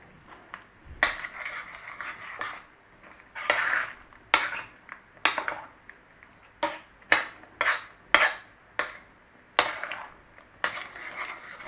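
Vegetables and sauce in a single pan for sweet and sour beef meatballs: a utensil repeatedly scrapes and clatters against the pan in irregular strokes, close and fairly loud, with a faint sizzle beneath.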